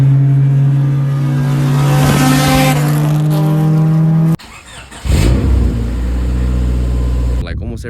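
A 1999 Honda Civic Si with over 250,000 miles, an oil-burning engine, revs loudly with a steady droning tone, cuts off abruptly near the middle, then a rougher engine sound returns, with voices faintly present.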